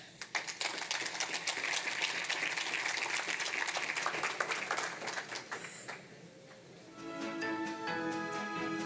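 A conference audience applauds a speaker coming to the stage with dense, sustained clapping that thins out near the end, when a voice and some music or stage sounds come in.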